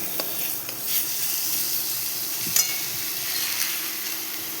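Spice paste stir-fried in oil for a raw banana kofta curry, a dense close sizzle with occasional scraping stirs of the spatula, steady throughout.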